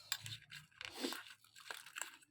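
Crunchy chewing of food, a run of close, crisp bites and grinding crunches in irregular rhythm, fairly quiet with no talk.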